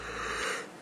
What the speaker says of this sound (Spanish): Oigan, una disculpa por bostezar.